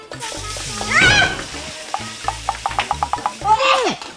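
Hot oil sizzling in a pan as catfish fries, broken by a quick series of metal utensil clacks and scrapes against the cookware.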